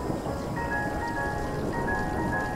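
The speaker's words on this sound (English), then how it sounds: "Oh boy, that's a lot of rain." Heavy rain as an audio drama sound effect, a steady dense hiss of falling drops with faint tonal ringing over it, continuous and moderately loud with no voices.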